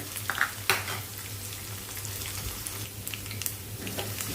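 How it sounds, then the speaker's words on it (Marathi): Mustard seeds and garlic fry in oil with a steady, moderate sizzle and a few light crackles and pops near the start, continuing without any voices. "ही मोहरी पण छान अशी भाजते आणि लसूण पण व्यवस्थित भाजली जाते"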